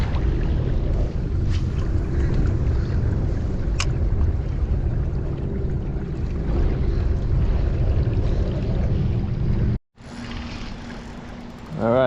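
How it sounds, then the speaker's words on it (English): Wind buffets the microphone with a constant low rumble, steady throughout with a brief dropout near the end. "But it's kind of windy."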